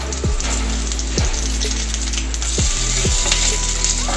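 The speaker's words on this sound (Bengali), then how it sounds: "এই তেলের মধ্যে আমি এখন জিরেটা তো এই যে তেজপাতা ফোড়ন দিলাম" Cumin, bay leaf and whole garam masala spices sizzle steadily in hot oil for a Bengali soybean dish, a dense close frying hiss broken by a few sharp crackles and pops, with no talking.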